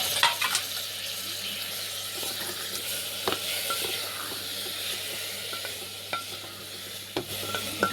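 Vegetable rice being stirred in a pot, a steady soft scraping and rustle over a faint sizzle, with a few louder clicks of the spoon against the vessel.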